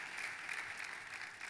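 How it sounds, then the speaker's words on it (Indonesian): Brief burst of congregation applause during a church sermon, a soft, steady wash of many hands clapping heard from a distance. "Kasih tepuk tangan yang paling meriah buat Tuhan kita."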